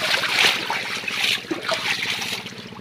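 Irrigation water running into a flooded cauliflower field, a soft steady trickling and burbling flow that stays close and fairly quiet throughout, with no voices.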